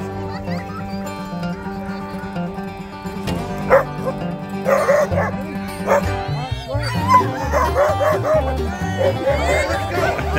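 Sled dogs yip and bark in a steady, excited chorus over a constant musical backdrop during a winter ride in Michigan's Upper Peninsula, with several overlapping calls close by.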